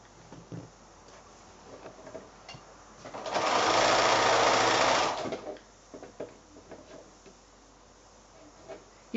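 A sewing machine runs in one loud, steady burst of about two seconds while stitching together quilt fabric squares for nine-patch blocks cut from fat quarters, with quiet handling of the fabric before and after.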